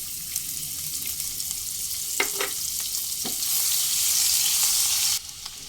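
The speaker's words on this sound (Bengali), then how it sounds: "দুই টেবিল চামচ কোচানো পেঁয়াজ দিয়ে দিলাম" Chopped onion frying in oil with whole cardamom and sugar, a steady sizzle broken by a few stirring scrapes, swelling louder near the end before dropping, with no talking.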